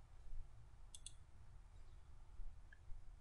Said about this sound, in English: I'll double click within that viewport